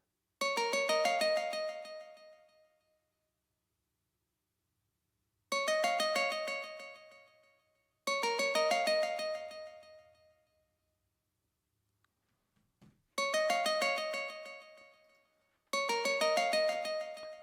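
A riff played on a bright, bell-like keyboard tone, repeating in five short bursts of quick notes with silent gaps between, close and alone.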